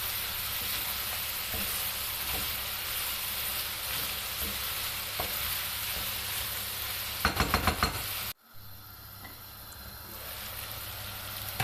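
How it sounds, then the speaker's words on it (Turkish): Chopped peppers and vegetables sautéing together in a pan for a chicken sauté, a steady close sizzle with occasional stirring scrapes, a quick rattling burst, then a sudden drop and a quieter sizzle building again. "Doğradığım biberleri de aynı anda atıyorum. Hep beraber kavuracağım."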